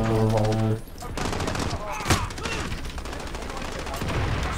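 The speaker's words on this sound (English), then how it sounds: "Four shots of a revolver." Gunfire in Call of Duty Modern Warfare on the Shipment map, a burst of shots and impacts amid busy game noise, following a tonal game sound at the start.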